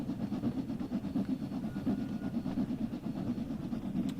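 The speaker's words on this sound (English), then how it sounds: "Sounds lovely though, with the 2 engines going there." Two steam locomotives work together in Train Sim World 3, giving a steady, dense low rumble with a fast, even chuffing beat that carries on without a break.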